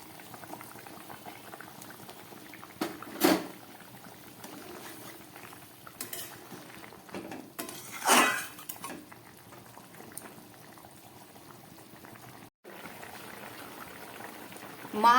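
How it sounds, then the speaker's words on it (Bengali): Curry gravy bubbling at a boil in a pan as pieces of katla fish go in, a steady, close bubbling broken by a few louder splashes and a brief utensil knock, with no talking. "এইবার এই ফুটে ওঠা ঝোলের মধ্যে আমি দিয়ে দিচ্ছি এই কাতলা মাছের পিস।"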